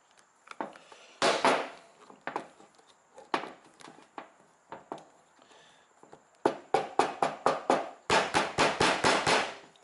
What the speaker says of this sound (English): I'm banging this on my workbench